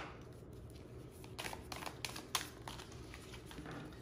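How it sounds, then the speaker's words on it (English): A deck of stiff cards that stick together is shuffled nearby, giving several soft riffling bursts and clicks over a low room hum. "I'm having a tough time shuffling these cards"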